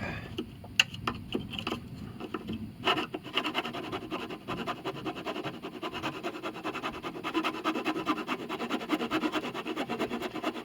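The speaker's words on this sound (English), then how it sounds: "we have to get them perfectly flat with a chisel" Chisel scraping wood flat on a broken violin scroll, heard as close, irregular scratching and rubbing strokes with a few sharp clicks early on, then a denser steady scrape.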